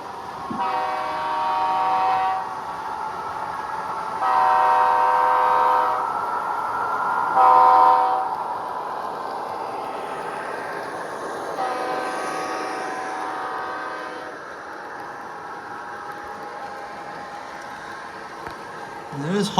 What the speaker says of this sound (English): let's go ahead and just get this train running